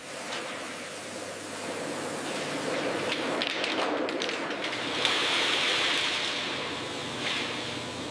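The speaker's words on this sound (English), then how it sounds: "Every snail is gently rinsed without harm." Water rushes and sprays steadily in a continuous hiss as snails are rinsed on a factory wash line, with a few faint taps and clinks underneath.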